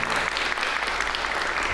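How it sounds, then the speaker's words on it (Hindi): A short burst of loud, dense applause, many hands clapping steadily at close range with no talk over it. "ये इस पे तालियां बनती थी।"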